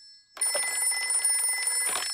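A cartoon telephone rings in Daddy Pig's office, a bright electronic trill that starts abruptly and repeats in quick pulses, clear and close with no talking.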